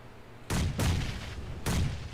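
Grenades exploding in the PUBG Mobile video game during a pro league final match: three loud, heavy booms in quick succession, each with a rumbling tail that carries into the next.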